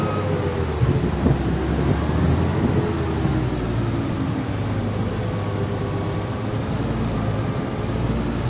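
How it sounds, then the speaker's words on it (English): Heavy rain pours steadily in Farming Simulator 25 while low thunder rumbles and rolls beneath it, a dense, loud storm wash with no speech. "we can't harvest in the rain, can we?"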